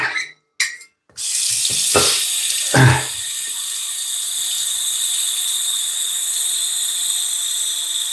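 Water runs steadily from a tap as a container fills, a continuous hiss that holds for several seconds after a few brief handling knocks at the start.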